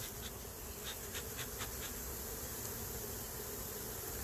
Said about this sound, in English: We're going to go check on the big hive, hive number 2.